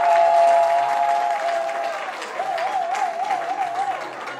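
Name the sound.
audience applause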